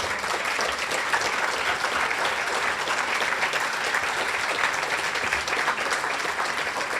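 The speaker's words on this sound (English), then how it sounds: "Will you all stand now and allow us to give you applause?" Audience applause at a young professionals awards show, a dense, steady wash of many hands clapping at once, sustained and even in loudness throughout with no voices rising above it.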